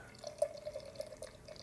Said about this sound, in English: Pouring